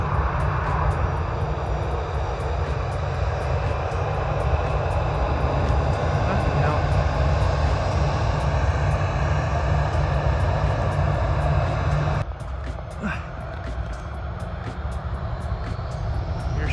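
A plane taking off at night during a 2 AM plane-spotting session, a loud steady roar of aircraft engine with broadband rumble that drops sharply partway through, with wind and handling noise close by.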